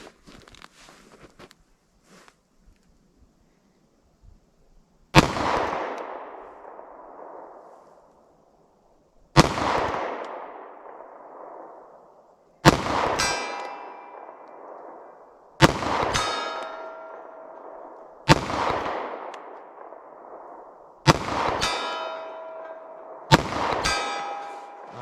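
Black Hills .45 ACP semi-wadcutter rounds strike a steel target. Seven loud metallic clangs land every three to four seconds, each ringing out in a long fading tone, after a few faint ticks at the start.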